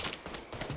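Buckshot blasts from a shotgun in Mafia III, several sharp reports in quick succession amid dense combat noise, loud and close.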